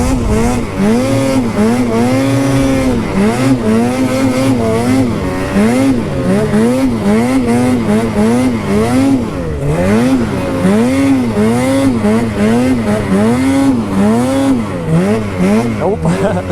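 A Freeride snowmobile weaves through trees, its engine revving up and down continuously in loud, rhythmic surges close to the rider.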